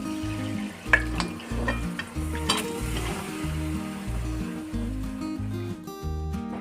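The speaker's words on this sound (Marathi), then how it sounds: "आता उकडून घेतलेलं मटण घालून घ्यायचं" Steady sizzling of boiled mutton frying in a hot pan with occasional scraping and stirring, over a stepped, repeating musical backing.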